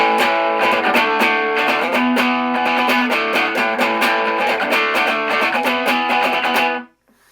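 Distorted electric guitar power chords chug through an amp at a rock-ready gain level, in a steady, loud run of repeated strums that cuts off abruptly near the end.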